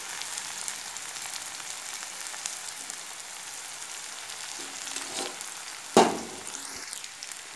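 Chopped onions and tomatoes fry in a pan on a turned-up burner for a shrimp curry, a steady close sizzle with a sharp clatter of stirring near the end and no talking.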